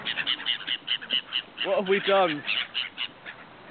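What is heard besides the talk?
flock of birds swarming after a thrown biscuit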